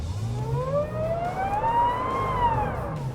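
A Sprintex intercooled supercharger on a Jeep Wrangler JK whines under throttle, a steady, loud rising-and-falling tonal whine over low engine rumble, continuous throughout with no talk.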